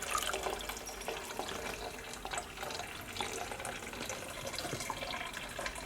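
Homemade Hunters dry beer pours steadily from a container, a continuous soft liquid trickle and splash at close range with no talking.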